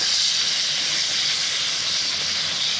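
Tomato paste for brinjal masala (baingan masala fry) hits a hot pan after ginger and garlic, giving a steady, loud, close hissing sizzle that never lets up and has no talk over it.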